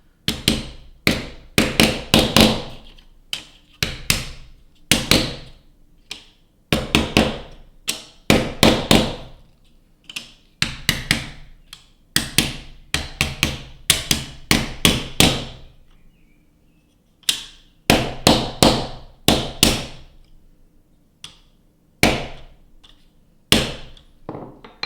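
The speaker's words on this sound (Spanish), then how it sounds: "Ahora podemos terminar de encajarlo con el martillo" A hammer taps a wooden kumiko jigumi lattice together, sharp close knocks landing in quick clusters of several blows separated by short pauses, loud and clear with no talk.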